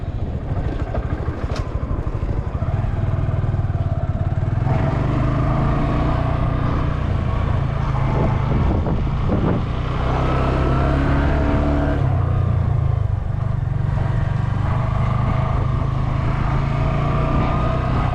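Motorcycle engine hums and revs steadily as the bike rides tight figure eights in a parking lot, a close, continuous drone with gentle rises and falls in throttle.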